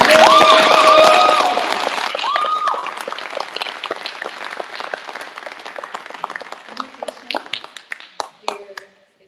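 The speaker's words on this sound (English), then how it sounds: "Let's give them another round of applause." Graduation ceremony audience gives the class another round of applause; loud clapping with cheering and a voice at first, then thinning into scattered individual claps that fade out.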